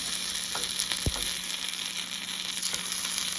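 Paniyaram frying in a pan of oil for a Coimbatore-style spicy paniyaram, giving a steady close sizzle throughout with one brief scrape or turn partway through and no talking.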